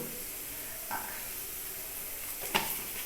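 Food fries in a pan with sugar and chili powder for an egg and papad curry. A soft, steady sizzle and hiss plays quietly throughout, broken by a couple of light stirring scrapes.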